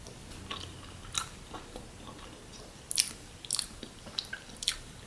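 Someone bites into a grain-free chocolate peanut butter muffin and chews it close up, giving a few soft crunchy bites followed by quiet, irregular chewing, with no speech.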